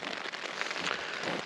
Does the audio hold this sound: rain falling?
yes